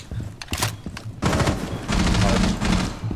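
Rapid automatic gunfire from an Xbox pro league shooter match, with a few sharp early shots and then a dense, sustained volley that fills the second half. Faint voice chat sits underneath.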